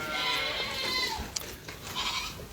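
Pygmy goats bleat on a farm, with several overlapping, wavering calls close by and one sharp click partway through.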